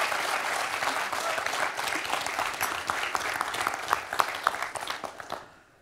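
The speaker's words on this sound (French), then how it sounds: "On peut applaudir Nadine pour son 4 à la suite." Studio audience on a quiz show applauding steadily, a dense even patter of many hands that fades out toward the end.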